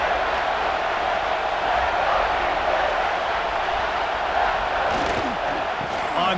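A stadium crowd in the NCAA Football 26 video game, Georgia Bulldogs against Auburn Tigers, keeps up a loud, sustained roar of cheering that swells steadily throughout, while a commentator talks over it.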